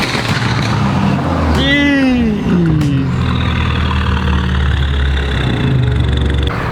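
BMW F30 320i with a BM3 tune, its engine running loud and steady with a rough low rumble throughout, while a brief voice-like rising sound cuts in near the start.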